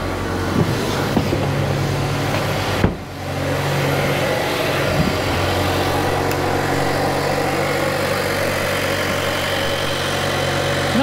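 A 2020 Mazda CX-9 with a newly replaced turbocharger cranks briefly, catches, and then settles into a steady, close-up idle with a low, even drone that continues throughout.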